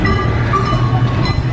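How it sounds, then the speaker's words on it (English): A passenger train rolls past at Dutch Wonderland amusement park, close and loud, with a continuous rumbling engine drone and rail noise. "Here comes the train, Dutch Wonderland."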